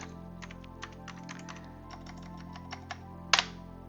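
Quick, light keystrokes tap out in short bursts on an Amiga 2000 computer keyboard, close by, ending with a sharper clack, over a faint steady hum.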